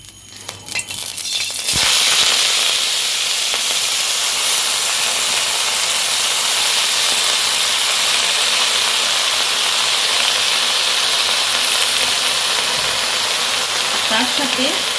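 Chopped greens hit hot mustard oil in a pan and burst into a loud, steady sizzle after a brief clatter, hissing continuously and close up for the rest of the time.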